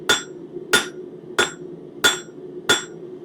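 A metal leaf is hammered against the corner of an anvil, which serves as a cutoff tool: five sharp, ringing blows land about every 0.65 seconds, each followed by a short decay over a steady background hum.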